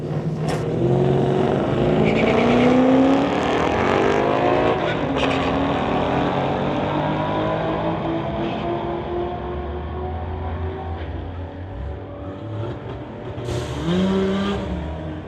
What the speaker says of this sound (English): We have Austin from Abbotsford, 2007 Silverado, going against Jake Evison from Abbotsford